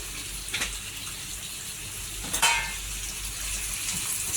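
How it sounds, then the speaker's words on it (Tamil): Tomatoes and Maggi seasoning sautéing in a pan give a steady, moderate sizzle with a couple of brief stirring scrapes, close by and with no talking. "இப்போ இதெல்லாம் வதங்கி வரணும்."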